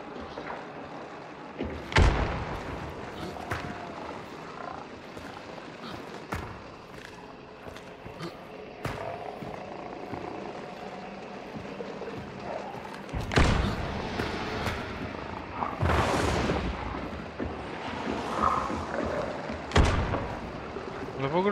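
Gunfire between other players in Hunt: Showdown rings out as a few scattered, distant shots with thuds spread across the stretch, amid game ambience and occasional talk.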